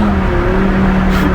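BMW M6 with a V10 engine and F1-style exhaust holding a loud, close, droning rev with a steady tonal whine, brief and alone.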